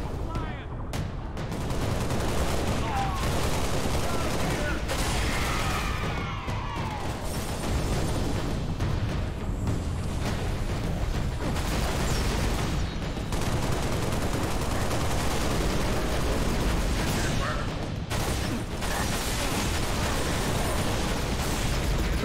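Gunfire in Halo Reach on Legendary difficulty in New Alexandria: dense, loud bursts of automatic fire and blasts running continuously, mixed with explosions, while voices talk over the combat.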